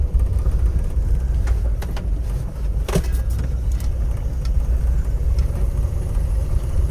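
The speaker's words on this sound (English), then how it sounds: "just a little backfire there" An old car engine idles with a steady low rumble, broken by a sharp backfire pop near the middle and a few lighter ticks around it.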